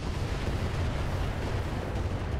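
Weapon fire and explosions in the mech combat game Roguetech, including swarm ammo, form a continuous heavy rumble of booming blasts and gunfire, loud and dense with no pauses.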